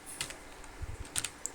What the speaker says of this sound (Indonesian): Kita ketikkan perintah